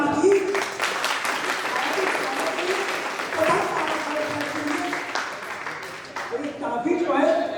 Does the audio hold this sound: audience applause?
yes